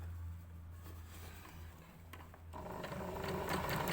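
A domestic sewing machine stitching a fabric pencil case, a low steady hum that gives way to a louder, busier whirring run of stitches partway through, heard up close with no one talking.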